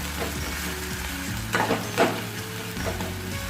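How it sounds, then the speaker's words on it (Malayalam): Crushed garlic, ginger, shallots and curry leaves hitting hot oil for a pepper rasam, a loud close sizzle with a few sharp crackling spits and stirring sounds. "ഇനി ഇതിലേക്ക് നമുക്ക് വെളുത്തുള്ളി ഇഞ്ചിയും ചതച്ചതും കറിവേപ്പില ഇട്ട് കൊടുക്കാം"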